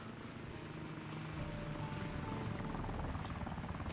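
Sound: aircraft flying nearby in Arma 2 video game

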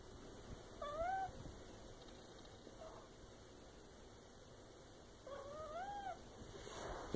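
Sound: cat meowing

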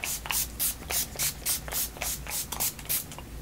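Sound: spraying water, essential oil and aloe hair spray

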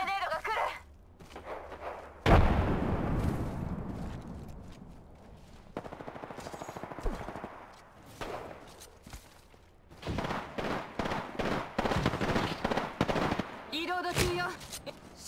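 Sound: gunfire in the video game Apex Legends

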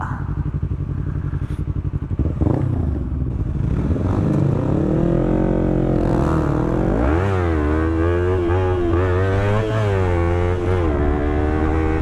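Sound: Yamaha R25 motorcycle engine hitting the rev limiter

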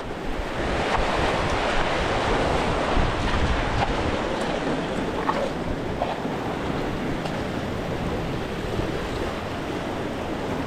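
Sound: sea waves

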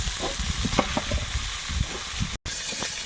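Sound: prawns frying in a pan

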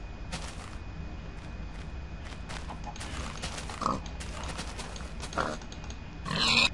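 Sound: pig oinking in Minecraft video game

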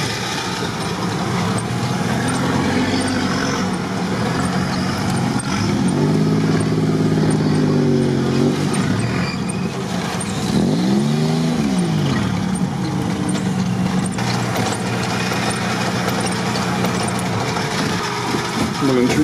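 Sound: off-road vehicle driving on a wet tank road

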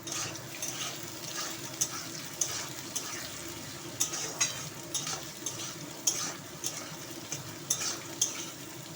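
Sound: potatoes and onions frying together in oil

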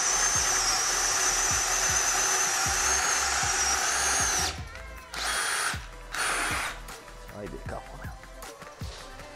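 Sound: DeWALT DCD791/DCD796 18V cordless drill boring with hole saw

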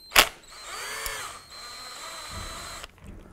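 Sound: power driver removing screw with T30 Torx bit

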